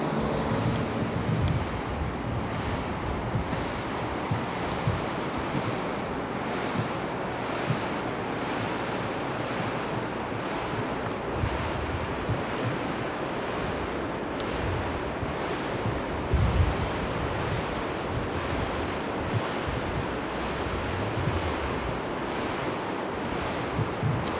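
A river rushes toward the brink of Upper Falls as a steady, dense roar of moving water, loud and unbroken, mixed with some wind buffeting and no voices.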